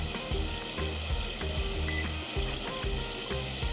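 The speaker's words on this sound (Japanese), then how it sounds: "ご飯がまたブクブクし始めたので" Rice bubbling steadily in a covered pot on low heat, a continuous close simmering hiss with faint regular mechanical pulses underneath and no talk.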